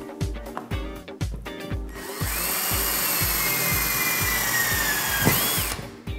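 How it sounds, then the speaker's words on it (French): Power drill boring a pilot hole before fitting a two-piece stainless steel stop to a sliding door: short starts and stops, then a steady, loud, close whine, and a closing rise in pitch. "Je fais un avant-trou."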